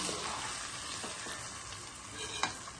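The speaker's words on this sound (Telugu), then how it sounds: "సమానంగా వేపాలి." Rice frying in a pan on low heat with turmeric and garam masala for a mixed biryani, a steady close sizzle with a few scraping stirs of a spoon through the grains.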